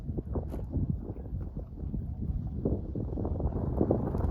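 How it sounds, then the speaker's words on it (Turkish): Steady wind buffets the microphone outdoors by a chicken coop, a continuous low rumbling roar with gusty fluctuations throughout. "Şu an farkındaysanız eğer zaten gene biraz rüzgar var."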